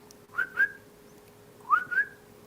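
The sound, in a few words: double whistle imitating a male animal's call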